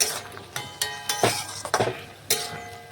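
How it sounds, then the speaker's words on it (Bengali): Ridge gourd and boiled potatoes stirred together in a pan, a spoon giving scattered clinks and scrapes against the metal in close, irregular bursts without speech. "সমস্ত কিছু একসাথে মিশিয়ে আবারও দেখুন আমি নাড়াচাড়া করে নিচ্ছি।"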